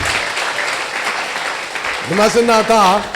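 Church congregation applauding and cheering during a French-language worship service, a broad, steady wash of clapping throughout, with a voice rising over the crowd near the end.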